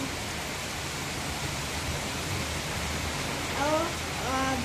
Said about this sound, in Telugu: పెద్ద భారీ వర్షం.